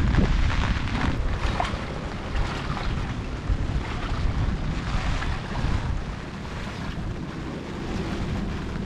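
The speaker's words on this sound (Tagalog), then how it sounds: "Lakas ang hangin. Narinig po ninyo yung hangin. Talaga pong nasipol." Strong wind roars, whistles and buffets steadily across a rice field, a dense rushing noise with gusty swells and no voices.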